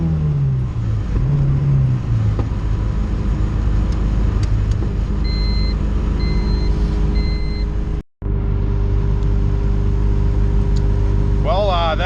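A boosted B20 car running about 8 psi accelerates hard in third gear with a loud, rising engine drone inside the cabin. A brief cut in the sound comes near the end, then the pull resumes. Faint beeps sound partway through.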